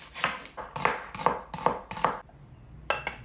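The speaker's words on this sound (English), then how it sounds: "And then slice up our onion." A knife slices through an onion on a cutting board in a run of crisp, close, evenly spaced cuts, then a short pause and a few more strokes, with no voices.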